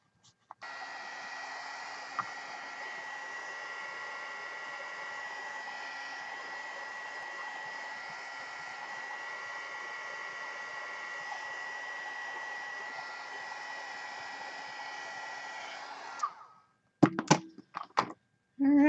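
A heat gun blows with a steady, loud whooshing hum for about sixteen seconds while drying a gelli print, then clicks off, followed by a few handling knocks and clatters.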